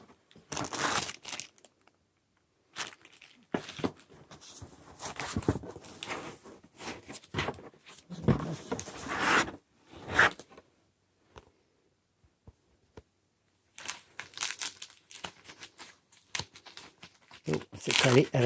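Unboxing a Harman Kardon Aura 2 Bluetooth speaker: packaging crinkles and thick tape tears in intermittent bursts, with quiet gaps between and occasional faint handling noise.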